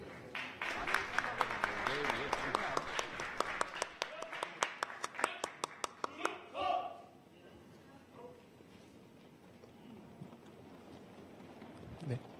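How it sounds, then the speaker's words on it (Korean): Audience applause at a military academy graduation and commissioning ceremony, welcoming army band singers: a burst of sharp claps with a steady rhythm that fades out partway through, leaving quieter hall ambience. "여러분 큰 박수로 맞이해 주십시오"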